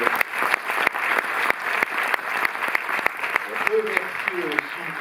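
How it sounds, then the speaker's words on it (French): Steady applause from a sizable audience at a film premiere at the Cinémathèque in Paris fills the whole stretch, with some voices mixed in toward the end. "Vous pouvez les applaudir."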